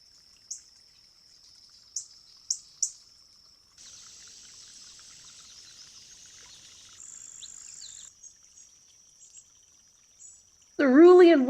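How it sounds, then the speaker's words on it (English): A cerulean warbler sings high, thin buzzy notes, first as a few short chirps and then as sustained trills, bright and fairly close, before a voice breaks in at the end. "Cerulean warbler, are you kidding me?"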